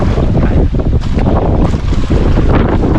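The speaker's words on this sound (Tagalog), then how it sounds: "Yan ang itong hangin-hangin" Strong wind roaring across the microphone out on open water, a continuous loud buffeting rush with the wash of waves beneath.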